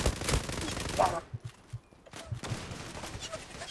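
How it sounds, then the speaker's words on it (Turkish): Rapid gunfire bursts from a firefight in the online shooter Zula, loud and close with short staccato volleys, broken by brief pauses, while a player talks over it. "Abi adama sıkıyorum adam ölmüyor."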